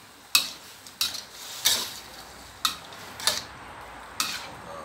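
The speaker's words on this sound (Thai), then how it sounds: "ผัดเครื่องในให้สุกไปเลยนะ" Chicken giblets are stir-fried in a pan with a spatula, and the utensil scrapes and clanks against the metal in six sharp, evenly spaced strokes over a faint, constant sizzle.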